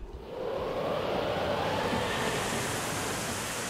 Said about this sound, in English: the sea was in an uproar